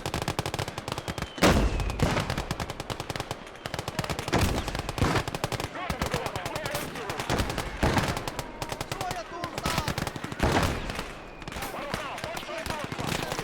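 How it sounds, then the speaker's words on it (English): Gunfire and mortar blasts in a Finnish war video game, with repeated sharp heavy bursts and rapid shots over a dense battle din, mixed with talk. "Let the mortars pop off too,"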